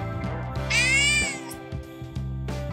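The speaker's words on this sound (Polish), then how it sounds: "Długie miauczenie oznacza, że kot bardzo cieszy się na twój widok." A cat gives one long, drawn-out meow, clear and close, over a steady low hum of background music.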